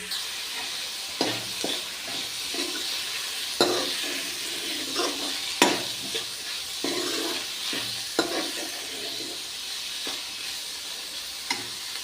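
Onions and garlic fry in a pan toward light brown, a steady close sizzle and hiss punctuated by regular scrapes and taps of a stirring spoon against the metal.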